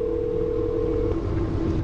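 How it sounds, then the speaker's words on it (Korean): A telephone in a horror video game gives a steady electronic tone, a single sustained note that shifts slightly partway through, alone and fairly close over a low hum. "갑자기 전화 걸어요"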